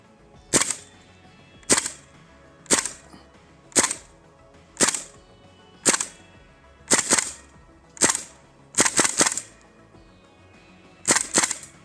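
Airsoft AK rifle fitted with a 1P87 optic fires about a dozen sharp, cracking single shots at uneven intervals, including a quick burst of several near the end, close and loud with no talking.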